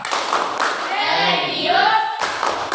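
A class performs the tepuk PPK clap routine, crisp rhythmic group claps near and loud at the start and end, with chanting voices in the middle section.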